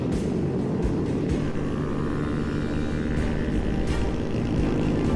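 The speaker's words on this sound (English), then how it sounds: "we're still being chased by the chopper" A steady, continuous low rumble of rotor and engine noise from a police helicopter, loud and unbroken throughout, hovering overhead while chasing motorcyclists.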